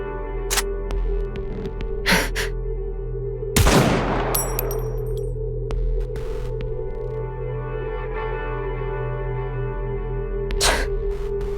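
Gunfire in the mobile shooter Goddess of Victory: Nikke, with a few sharp isolated shots spread out over steady game music, one louder blast with a crackling tail near the middle.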